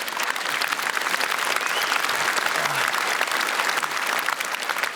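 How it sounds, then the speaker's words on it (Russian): A studio audience at a comedy show applauds loudly, dense continuous clapping filling the whole moment without any speech. "Под ваши аплодисменты."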